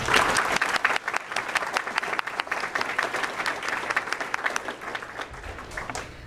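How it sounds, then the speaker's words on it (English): Audience applause for a school board at a vocational school district certificate ceremony, a steady roomful of clapping hands sustained throughout, with a faint voice now and then. "A round of applause for our board, please."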